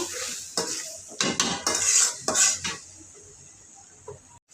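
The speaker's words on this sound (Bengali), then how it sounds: "এখন এটা আমি কিছুক্ষণ কষাবো।" Dried fish curry stir-fried in a pan: a spoon scrapes and clatters against the metal in a series of irregular strokes over a steady sizzle, close and fairly loud, with no talk.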